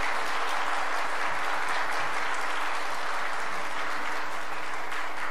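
Steady, dense applause fills a church service hall as the congregation welcomes a chairman and his wife standing at their seats. The clapping is loud and continuous throughout, with no voices over it.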